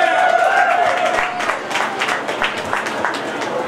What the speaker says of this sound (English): One more round of applause for Doctor Who.